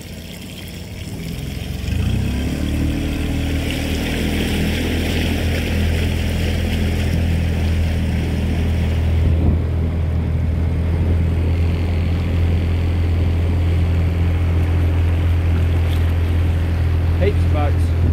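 A motorboat engine drones steadily on the water near a wharf at Mapua, a loud continuous low hum that starts after a short quieter moment and persists with water and wind noise.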